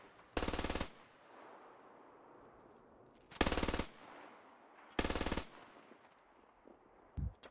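Sustained automatic gunfire in the video game SquadOps, three loud bursts of roughly half a second each, separated by short pauses, followed by a faint low thump near the end.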